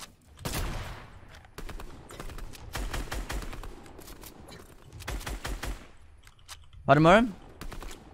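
Gunfire in the video game Fortnite, rapid bursts of shots in several clusters with short pauses between them, mixed with other game sounds and a brief exclamation from a player.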